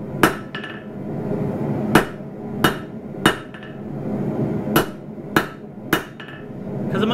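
Hammer blows on a steel dagger being forged, cleaning the transition between tang and blade: eight sharp, loud metallic strikes at an uneven pace, each ringing briefly over a hum of background noise.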